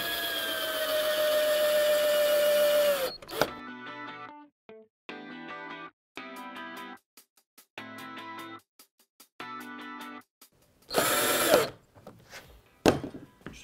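A power drill drives 4-inch, 5mm-thick screws to join wooden frame sections for a chimney breast, opening with a long steady whir, then a series of short stuttering pulses, and finishing with another strong burst.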